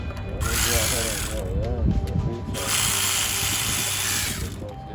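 Power tool loosening valve cover bolts on a 2004-2010 Toyota Sienna 3.3L, in two whirring bursts close up, with someone speaking between them.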